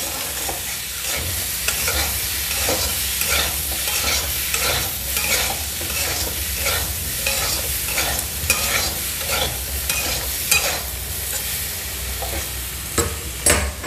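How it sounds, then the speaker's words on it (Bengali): Elephant foot yam frying with green chili paste, salt and turmeric, a steady loud sizzle broken by regular rhythmic stirring strokes against the pan throughout. "কাঁচা লঙ্কা নুন হলুদ ওল আমি আবারও একটু ভেজে নিচ্ছি"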